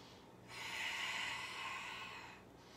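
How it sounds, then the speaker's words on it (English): A single long, deep breath during a yoga session rises after a short pause, holds steady for about two seconds, then fades. It is close and breathy, with no talk. "Give me two more big, huge, deep breaths"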